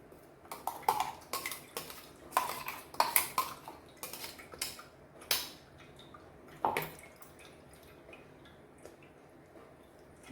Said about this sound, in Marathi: गाळून घेऊया चाळणीवरती